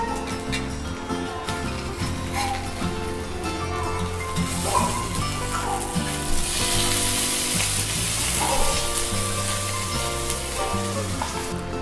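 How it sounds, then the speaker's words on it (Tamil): Kerala-style fish wrapped in banana leaf fries in a pan with no added oil. A steady sizzle carries through at moderate loudness, with occasional soft scrapes and clinks. "எண்ணெய் எதுவும் சேர்க்க வேண்டாம், அப்படியே ஃப்ரை பண்ணிடலாம்."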